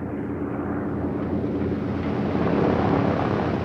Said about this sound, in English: Plane from New York and the East, arriving 4:20 on time.